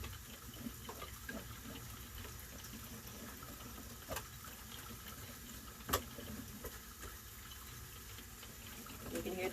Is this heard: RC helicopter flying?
no